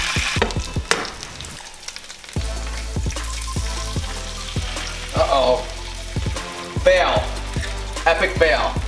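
An egg fries in a pan for an over easy egg, a steady sizzle running throughout, broken by repeated sharp knocks and scrapes of a utensil against the pan.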